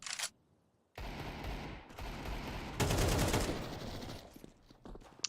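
AK rifle fire rings out during a professional esports video game match, with loud rapid bursts of automatic shots starting after a brief pause and intensifying into a dense volley midway before tapering off.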